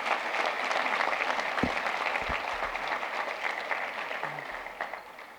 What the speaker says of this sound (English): Can we give a round of applause for our student speakers again?